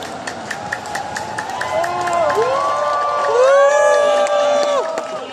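A large crowd at a peaceful unity rally shouts and cheers together, rising voices swelling into a loud sustained roar that holds across the clip.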